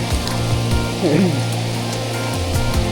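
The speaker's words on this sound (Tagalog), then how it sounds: "Lakas ng ulan." Heavy rain pours on hikers walking a trail, a dense, steady broadband hiss that fills every moment, with a brief voice faintly heard beneath it.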